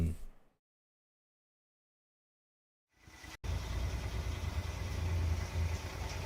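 A rattly car engine idles, starting after a few seconds of silence, then holding a steady, close, low vibrating rumble with a loose rattle to it.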